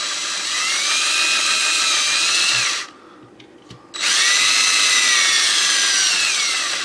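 A power drill whines loudly while boring holes for a DCHDMI install, running for a few seconds, cutting out briefly, then starting again for another long steady run.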